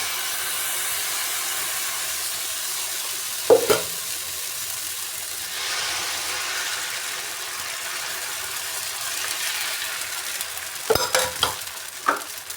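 A dosa cooks on a hot tawa with a soft, continuous sizzle that swells gently in the middle, broken by a few clanks of a utensil against the pan near the start and toward the end.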